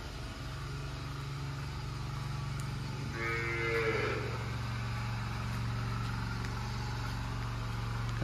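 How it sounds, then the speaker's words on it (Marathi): A single long, low moo from a buffalo, fairly close, in a Konkan village where a field is being ploughed, over a steady engine-like drone and outdoor background. "म्हशी आहे तिकडे आतमध्ये."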